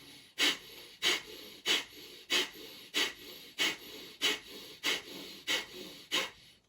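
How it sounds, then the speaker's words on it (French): Kapalabhati yoga breathing: about a dozen sharp, forceful nasal exhalations in a steady quick rhythm, each a loud close whooshing puff with brief quiet gaps, no talking. "Le Kapalabhati, c'est une expiration active par le nez, comme pour éteindre la flamme d'une bougie."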